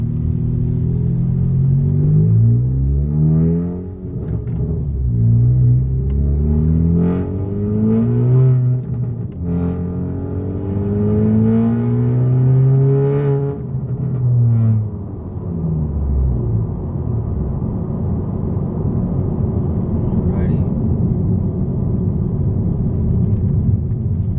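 A loud 10th gen Honda Civic Si exhaust revving, deep rumbling pulls that rise and fall repeatedly in pitch, close and heavy, then settling into a steady droning idle.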